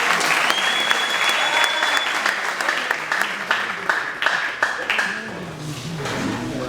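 A church congregation breaks into loud, sustained applause, dense clapping that carries on throughout with a brief tonal sound early on and a voice emerging toward the end.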